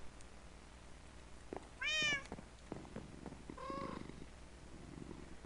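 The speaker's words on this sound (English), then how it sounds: "And I can assure you that these cats are very, very vocal." Cats meowing in the video game Minecraft, with two clear drawn-out meows a couple of seconds apart over a quiet game background, with faint clicks and soft purring between them.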